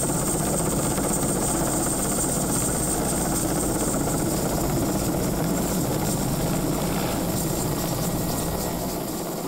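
A helicopter's continuous loud rotor and engine roar fills the whole stretch steadily, close by, with no voices over it.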